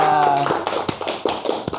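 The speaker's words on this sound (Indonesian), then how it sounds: "Wah, tepuk tangan pemirsa." An audience claps at a Javanese wayang cultural talk show, with scattered taps and claps over a fading sung or held tone and brief voices.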